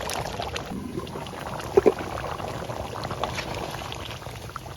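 Water poured into a pot of simmering desi chicken bhuna with potatoes, a steady close bubbling and sloshing pour with a couple of brief knocks partway through.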